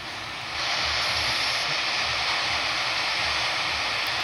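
Airbus A321 jet engine in the Infinite Flight simulator, a steady, loud broadband roar that swells after a half second and then holds constant and close.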